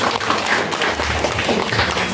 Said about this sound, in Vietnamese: Và một tràng pháo tay thật lớn để cùng cảm ơn chia sẻ của bà.